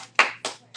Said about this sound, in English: we have an applause for that